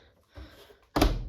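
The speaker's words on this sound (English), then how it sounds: "See, just the door opens nicely on this." The door of a Hotpoint SUTCD97 tumble dryer swings shut with a soft rattle followed by one firm, close thunk as it latches.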